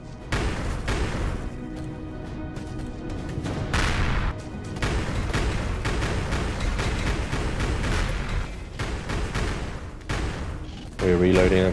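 Cannon turrets fire in Empyrion Galactic Survival (Reforged Eden 2) during a battle-tank fight: repeated heavy booms and blasts come in dense clusters across the whole stretch, loud and rumbling, with a brief lull around the middle.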